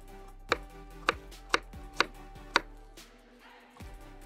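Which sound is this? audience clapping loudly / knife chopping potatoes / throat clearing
knife chopping potatoes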